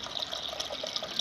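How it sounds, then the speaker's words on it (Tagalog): Hot water pours into a cooking pot with a steady splashing, liquid rush, close and continuous for a brief moment, without talk. "Lagyan natin ng tubig yung ating kaldero."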